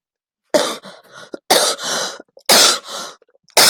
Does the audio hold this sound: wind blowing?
no